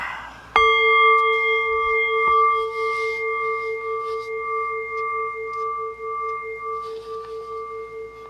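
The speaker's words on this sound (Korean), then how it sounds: "오늘도 역시 애군을 없애는 종소리와 함께 출발해 보도록 하겠습니다." A single bell is struck once, ringing out to ward off bad luck before a Korean fortune-telling session. It sounds as a clear, close metallic strike followed by a long, steady ring that fades slowly over several seconds.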